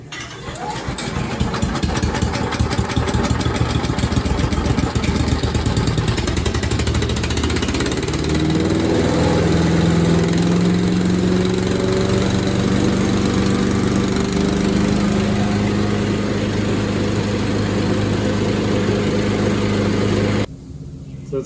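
A Lumberjack 3-inch wood chipper's small engine is pulled into life by cord, then runs loud and close at a steady roar, its pitch shifting midway before cutting off at the end.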